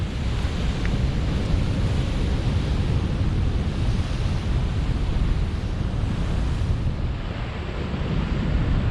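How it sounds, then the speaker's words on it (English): Steady roar of ocean surf and crashing waves from huge swells, loud and continuous with heavy low rumble and wind buffeting the microphone, no voices. "We got some huge swells, waves coming."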